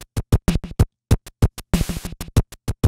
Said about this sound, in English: So it kind of sounds like this when you add your own echoes.